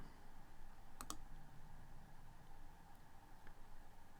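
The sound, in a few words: computer mouse clicking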